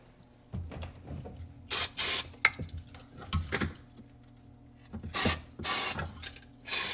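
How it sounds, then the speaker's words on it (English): Carb cleaner sprayed into a Seadoo 951 DI jet ski engine in short hissing bursts, several separate loud sprays with brief gaps, mixed with clicks and mechanical handling noises nearby. "I'm going to shoot a little bit of carb cleaner"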